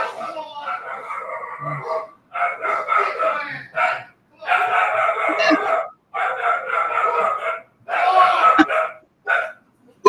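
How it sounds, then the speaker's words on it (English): Several dogs bark in repeated bursts of raucous yapping, fairly close and loud, separated by brief pauses. "Who started barking first?"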